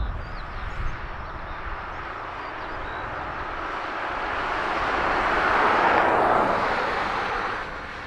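Qatar Airways Boeing 787 Dreamliner departing Dublin Airport, a steady broadband jet roar that slowly builds and crests near the end before easing slightly, heard from a distance with no talk.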